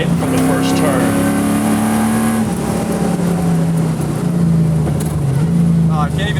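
A V8-swapped Toyota Corolla AE86 on a race track produces a loud, continuous engine drone inside the car that holds steady and then shifts pitch, with a voice at times beneath it.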